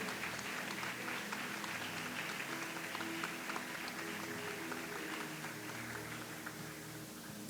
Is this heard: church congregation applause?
yes